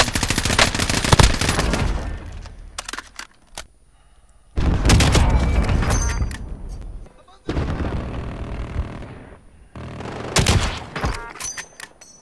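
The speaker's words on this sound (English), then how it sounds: "Someone has a minigun." Sustained automatic gunfire from a minigun in Call of Duty Warzone, arriving in several long loud bursts separated by short quieter gaps, with other battle noise and some talk mixed in.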